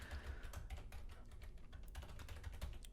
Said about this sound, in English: If you ever want to do anything that requires root privilege, you just type in the word sudo before it